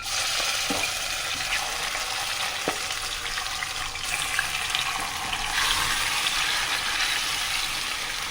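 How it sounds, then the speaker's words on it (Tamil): Marinated chicken frying in hot oil in a kadai, a steady loud sizzle and crackle running throughout, with a few soft clinks of stirring near the pan and no voices. "சேர்த்துட்டு நம்ம மேக்னேட் பண்ணி வச்ச சிக்கனையும் இதுக்குள்ளே ஆட் பண்ணிக்குவோம்"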